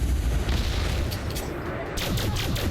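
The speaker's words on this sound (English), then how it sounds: "this is the laser rifle that we're using currently" Laser rifle fire in Elite Dangerous on-foot ground combat, with loud dense booming bursts running through the clip and a quick run of sharp repeated shots toward the end, close and forceful with no talking.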